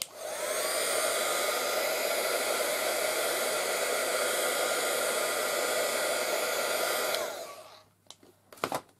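Hair dryer blowing on a canvas to dry ink, a loud, close, steady whirring roar that runs for about seven seconds and then cuts off, followed by a few faint handling knocks.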